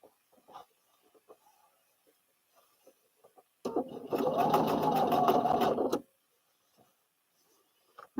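Home sewing machine stitching in one steady burst of about two seconds, a close, buzzing run set between quiet handling clicks.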